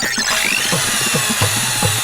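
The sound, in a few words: drill machine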